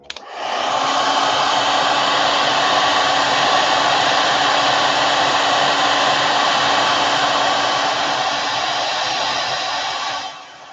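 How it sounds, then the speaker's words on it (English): A hair dryer blows steadily on thick wet face paint, a loud, continuous close whoosh that starts abruptly, holds even for about ten seconds, then cuts off. "So let me blow dry real quick."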